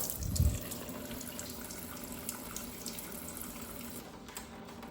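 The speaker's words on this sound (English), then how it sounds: "go to the kitchen tap and turn on your cold water" A kitchen tap running cold water into the sink while a home plumbing system drains, a steady splashing rush that opens with a low thump and then flows on evenly, fairly quiet and close.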